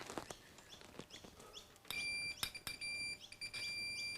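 A multimeter set to continuity on a motorcycle starter motor's earth gives a steady electronic beep, with short repeated tones coming through after a few faint clicks and taps, no talking over it.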